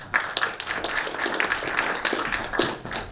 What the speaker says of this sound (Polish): Także wielkie brawa i zapraszamy.